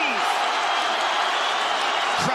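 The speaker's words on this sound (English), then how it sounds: "Crowd goes bananas as McGregor gets upright" A big UFC fight crowd roars as Conor McGregor gets up against Khabib Nurmagomedov, a dense, loud, continuous wash of cheering that fills the arena throughout.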